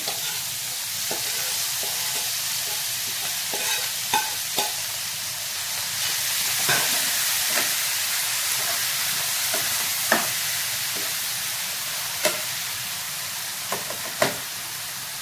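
Stuffed brinjal mixture sizzles and fries in a pan as it is added and stirred for bharli vangi, a steady loud hiss with scattered scraping clicks and no voices.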